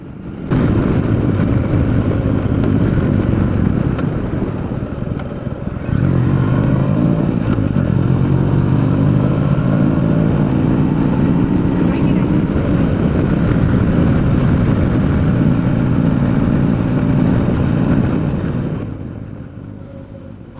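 Royal Enfield Meteor 350 motorcycle cruising on a highway toward Ananthagiri Hills in Telangana, a steady loud engine drone with wind rush throughout, briefly dipping near six seconds and fading slightly at the end.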